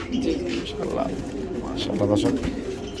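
Pigeons coo repeatedly at a pigeon farm, soft throaty calls close by, mixed with people talking in the background.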